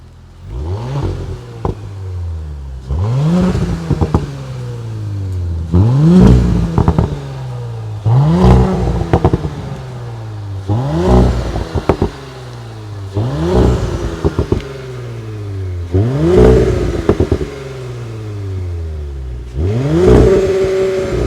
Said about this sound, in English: Hopefully the cameraman was able to capture the beautiful the beautiful sound from the sports exhaust